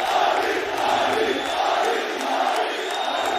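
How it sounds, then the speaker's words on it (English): Esports arena crowd at a Valorant Champions 2022 playoff match between DRX and FPX, a sustained rhythmic chant of a player's name with pulsing swells, dense and loud throughout. "The crowd absolutely behind this man. They can feel it. They are cheering his name."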